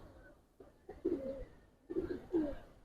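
Giribaz pigeons in a loft give soft, low coos in two rounded bursts, close and moderately loud over quiet background hiss.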